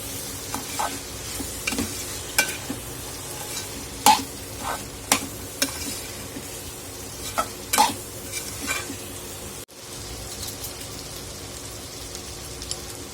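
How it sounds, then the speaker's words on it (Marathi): Bitter gourd and fried toor dal being stirred in a pan, a soft steady sizzle under repeated sharp scraping clicks of the spoon against the metal, close by, with a brief drop-out near the end. "तुरीची डाळ परतवून घेतल्यानंतर आपण कडवंची घालून घेणार आहोत यामध्ये आणि छान मिक्स करून घ्यायचं आहे"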